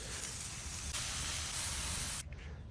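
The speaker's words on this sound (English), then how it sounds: "Got that sizzle, good Maillard reaction, got the browning there." A smash burger sizzles in a nonstick pan, a steady close hiss that swells in the middle and then drops away abruptly near the end.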